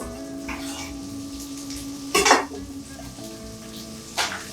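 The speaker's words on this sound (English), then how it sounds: "So, our oil's been heating up in that pan. I'm gonna toss in my broccoli." Broccoli tossed into a pan of hot oil: a steady background sizzle broken by two sharp bursts of crackling spatter as pieces hit the oil, close up with no voices.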